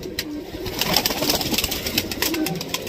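Pigeons coo and flutter close by amid a busy rustling background, with soft repeated calls and wing sounds throughout.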